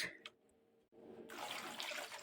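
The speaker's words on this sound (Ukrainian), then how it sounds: "Зараз промиваю гарно чистою водою ще." Quiet handling noises, then tap water starts running steadily, splashing over mushrooms being rinsed in a sink, close and moderately loud.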